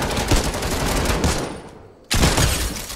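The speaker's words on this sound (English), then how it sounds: "They're shooting us." Rapid bursts of automatic gunfire ring out in a Fortnite battle royale match, a dense, loud crackling barrage that dips briefly into a lull before another burst erupts.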